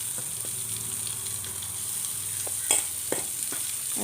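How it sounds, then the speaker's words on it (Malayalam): Chopped ginger and half an onion fry in a pan for a Kerala okra, ginger and yogurt dish, giving a steady, close sizzle with a few light stirring clicks and one brief sharper crackle, without any talking. "ഇഞ്ചിയൊക്കെ മൂത്ത് വന്നപ്പോൾ ഒരു സവാളയുടെ പകുതി കൊത്തി അരിഞ്ഞത് അതും കൂടി ഇട്ട് കൊടുക്കാം"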